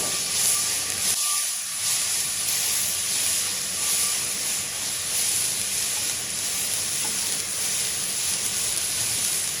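Tomatoes being stir-fried with salt in a hot wok give off a loud, continuous hiss and sizzle that carries on steadily, broken only by a brief dip near the start.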